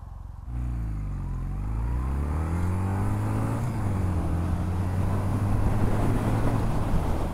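A Kawasaki W800 motorcycle starts from rest, its engine note rising steadily as it pulls away through the gears, loud and close with wind noise over the microphone and no talk.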